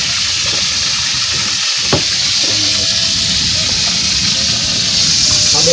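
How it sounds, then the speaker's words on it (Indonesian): Chicken hearts sizzle steadily in hot oil, a loud continuous hiss up close, with a brief clink partway through. "Goreng jantung ayam."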